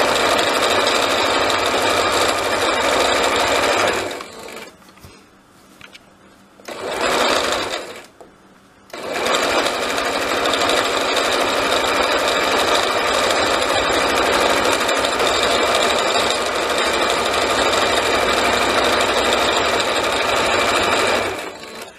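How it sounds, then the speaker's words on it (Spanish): A sewing machine stitches the hem of a Christmas-patterned curtain, a loud, close, steady whirring run that stops briefly twice for short pauses before continuing at a constant pace, with no talking. "Lo sujeté con alfileres y ahora lo estoy cosiendo."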